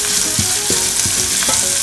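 Fenugreek and spices sizzling in oil in a pan for moru kachiyathu, a loud continuous fry with a few stirring scrapes, no voices.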